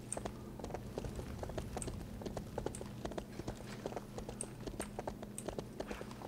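Horse mount hooves in the RIFT video game, a steady quick clip-clop of footfalls repeating evenly at low volume with no talking.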